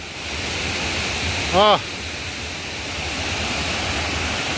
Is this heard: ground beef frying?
no